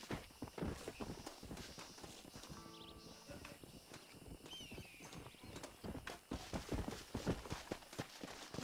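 Horse hooves clip-clop at a walking pace in Red Dead Redemption, steady rhythmic hoofbeats close by with outdoor ambience and a brief neigh-like sound in the middle.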